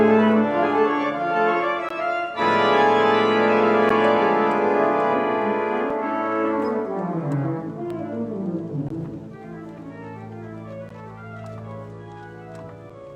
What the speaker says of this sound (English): And you'll hear the organ go really loud, and then it quietens down to almost nothing.